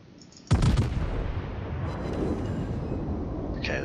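A single heavy naval gun salvo booms from a warship in the World of Warships video game, a loud sudden blast followed by a long rumbling decay and a faint later effect.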